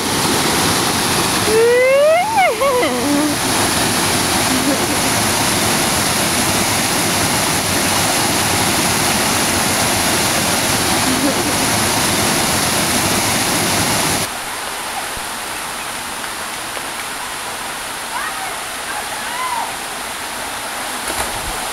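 A loud, constant roar of falling water at Kham Si Waterfall in northern Laos fills the scene, broad and unbroken. A brief chirping call rises over it early on.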